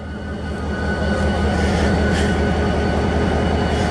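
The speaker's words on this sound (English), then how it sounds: "They got this engine working and on." A Western Pacific Railroad train engine runs at a steady idle, a deep, even rumble with a throbbing low hum that holds close and loud throughout, with no talking.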